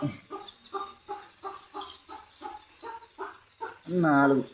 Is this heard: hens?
yes